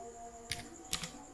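A few quick keystrokes on a computer keyboard, two brief clusters of light clicks in an otherwise quiet room, close by and without speech.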